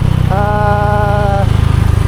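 A Honda Click motor scooter's engine drones loud and steady close by, with a brief high, tonal whine riding over the rumble for about a second.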